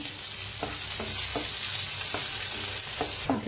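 Onion frying with coriander in a pan for Mysore dosa filling, a constant loud sizzle with regular rhythmic spatula strokes scraping through it, close up.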